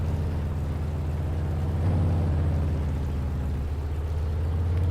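A truck engine running with no muffler, a loud, steady low rumble with a strong droning hum that holds constant throughout, no voices over it.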